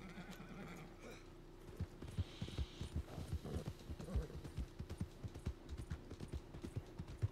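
A horse in the Red Dead Redemption video game clip-clops steadily along with a whinny early on, the hoofbeats even and close, with faint talk beneath.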